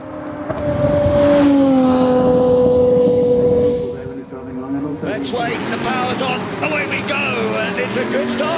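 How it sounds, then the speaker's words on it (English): Gordon Murray race cars head back out on circuit at the 81st Goodwood Members' Meeting, their engines roaring past with rising and falling pitch. An announcer then talks over quieter engine noise. "we're getting into the Gordon Murray cars that are coming back out on circuit"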